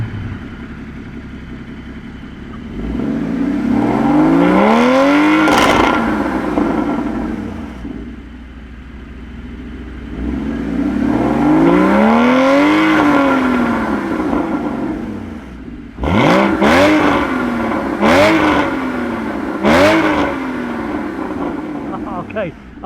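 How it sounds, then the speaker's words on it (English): A Porsche Cayman GT4 981 flat-six cranks and fires up, then rises and falls through two long rev sweeps before a burst of sharp, quick blips near the end, loud and close, with people talking in between. "We're going to basically start up the 981 first, and then we'll do the 718."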